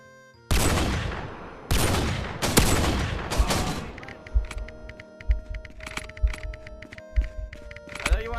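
A 50 cal sniper rifle fired in a contractors-style shooter video game: several loud, sharp booming shots early on, each with a long ringing tail, then lighter clicks, thuds and faint background hum.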